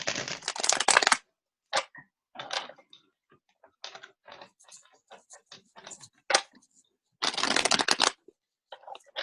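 Crisp riffling bursts of playing cards being shuffled, a long burst at the start and another near the end, with scattered taps and flicks between.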